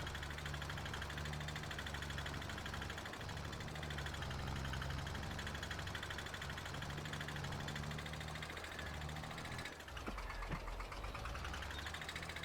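A Lizard tractor engine drones steadily in Farming Simulator 22 while working a field, a loud continuous mid-pitched hum with a knocking rumble and a brief change in tone near the end, with no talking.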